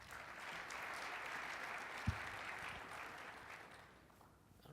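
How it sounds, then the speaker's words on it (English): Audience applause for a speaker at a Django conference lightning-talk session, a steady wash of clapping from a moderate crowd that carries on for several seconds, then tapers off. "Let's give Srinivas a round of applause."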